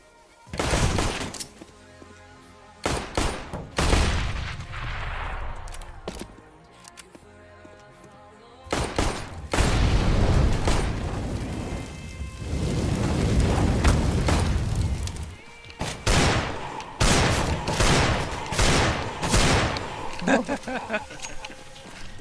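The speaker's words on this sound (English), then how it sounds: "Nice shot from Xantares, actually utilising his Deagle there to the full effect." Deagle pistol shots and other gunfire ring out in a Counter-Strike: Global Offensive match, loud repeated bursts and booms spread across the stretch with a caster's voice running underneath.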